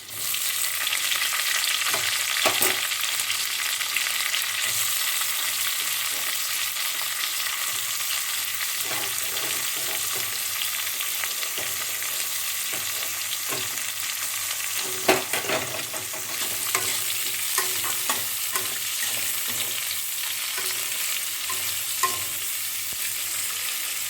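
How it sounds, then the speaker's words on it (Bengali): Onion sizzles and fries with green chilli in a pan, a dense, continuous crackle up close for a long stretch, punctuated by occasional stirring knocks and scrapes, no speech. "এবারে আমি পেঁয়াজটা দিয়ে দেবো"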